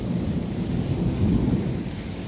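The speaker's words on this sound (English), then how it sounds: "There's a storm in Dallas, Texas." Thunderstorm over North Dallas, Texas, with steady heavy rain hissing on surfaces and a deep low rumble of thunder swelling midway, loud, close and unbroken, with no voices.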